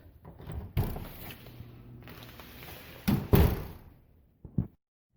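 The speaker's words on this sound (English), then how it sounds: "I just wanted to show you now how easily this door will close." A roughly 60-year-old wooden exterior door swings and shuts with a few soft knocks and thuds, then a firmer closing bump, fairly close by.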